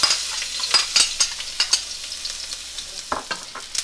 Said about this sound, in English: stir fry the garlics